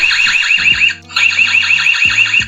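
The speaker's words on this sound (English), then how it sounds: "that is quite a loud siren" A loud, piercing electronic siren from an EZVIZ EL3 home security camera alarm wails in rapid warbling pulses, cutting off briefly before resuming, with a few dull clunks underneath.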